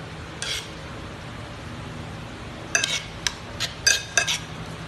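Metal utensils scraping and clinking against a hot plate of sizzling sisig, a few sharp clatters in quick succession over a faint steady background hiss.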